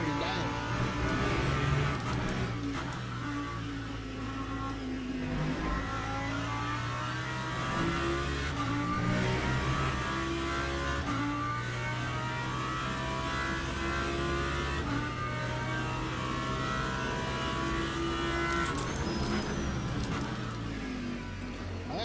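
A Lamborghini race car in Le Mans Ultimate drives continuously, its engine droning and revving through gear changes with a steady mid-pitched tone, while someone talks intermittently over it.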